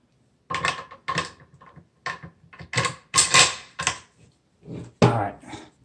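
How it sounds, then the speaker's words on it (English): Metal clicks and clacks from the bolt being slid back into a Browning AB3 rifle after a trigger spring replacement, about a dozen close, sharp bursts in a quick, uneven sequence. "I'm going to put the bolt back in and see how the trigger feels."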